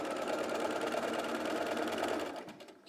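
A sewing machine stitches across the top of a dress bodice in one steady, close, rapid whirring run that slows and stops near the end.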